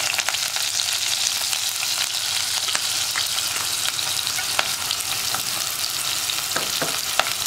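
Crushed ginger, shallots and split green chillies hit hot oil with fenugreek in a pan for a Kerala kozhuva fish curry. A loud, steady, close sizzle fills the scene, punctuated by sharp clicks of stirring.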